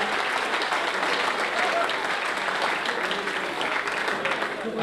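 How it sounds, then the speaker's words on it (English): Sustained crowd applause rings through a hall at a boxing night, dense and even throughout, with a faint murmur of voices mixed into the clapping. "So that's a particular round of applause."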